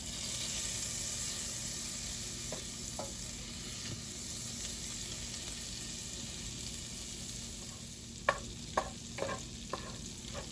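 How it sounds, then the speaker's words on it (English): Butter melts in a pan over medium heat as the start of a roux for baked macaroni and cheese, giving a faint steady sizzle, with a few sharp stirring clicks and scrapes near the end. "we're gonna start by adding our butter, and we're gonna melt that over medium heat"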